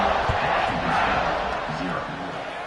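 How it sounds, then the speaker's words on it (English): A stadium crowd roars at the kickoff in the College Football 25 video game, a dense and sustained wash of cheering, with a commentator talking over it. "They're set to kick it off, and this crowd now ready to get behind them."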